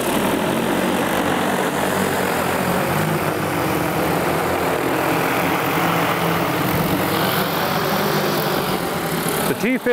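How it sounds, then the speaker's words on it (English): A DJI Agras T50 agricultural spray drone runs its rotors with a steady, loud propeller drone and engine-like hum that holds constant throughout, with no speech over it. "Hit start and the drone's ready to go."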